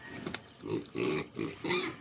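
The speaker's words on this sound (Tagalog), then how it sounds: "Dagko naman natong mga baboy." Large grower pigs on a farm giving a series of close, loud grunts and snorts, several short bursts in quick succession with brief pauses between them.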